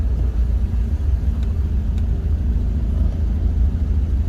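Steady road traffic drones past at a car cruise night, a continuous low rumble of car engines with no standout revs or horns.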